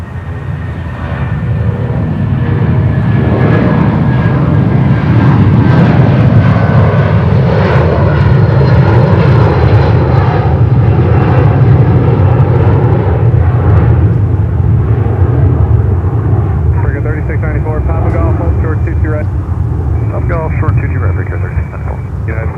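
A jet airliner lands on runway 22 left at Newark Liberty International Airport, its engine roar loud and steady throughout, with tonal whines shifting as it passes and rolls out.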